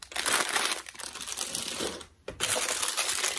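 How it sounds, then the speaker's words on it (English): Plastic packaging on discount-store haul items crinkles loudly and steadily up close, with a brief lull partway before the rustling resumes; no one speaks. "sorry about the crinkling"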